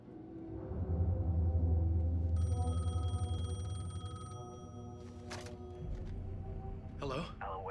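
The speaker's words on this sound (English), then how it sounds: "The payphone was ringing." A payphone rings in Alan Wake 2, a steady metallic bell trill over a low droning backdrop, moderately loud, mixed with other tones.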